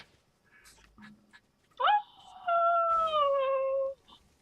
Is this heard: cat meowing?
yes